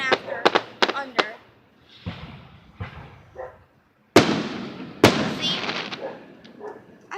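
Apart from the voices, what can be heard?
fireworks exploding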